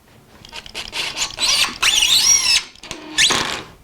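Power drill driving a couple of screws while building a guitar side bending machine, several loud whining bursts that rise in pitch as the motor spins up, separated by brief pauses, close and without talk.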